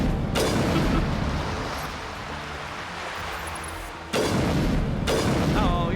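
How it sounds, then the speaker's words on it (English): A grenade explosion in the Mass Effect video game sounds as a long, loud, broad roaring rumble that fades slightly, then a second hard burst near the end, with faint voice underneath. "when you try to heal yourself but you accidentally throw a grenade"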